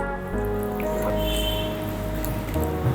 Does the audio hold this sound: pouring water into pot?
yes